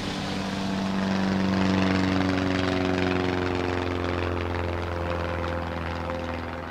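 Propeller aircraft climbing in altitude over the Pyrenees, a steady droning engine hum with a slowly shifting pitch, loud and continuous throughout with no talking.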